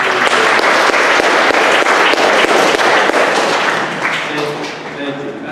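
Loud, close audience applause at a performance academy convocation, celebrating a student with dense sustained clapping that gradually thins and fades toward the end.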